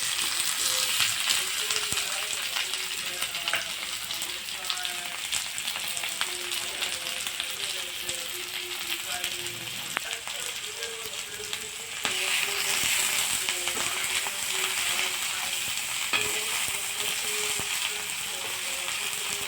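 Two thinly sliced medium onions sizzle steadily in hot oil, a constant close crackle with occasional faint stirring scrapes, the frying growing slightly louder toward the end.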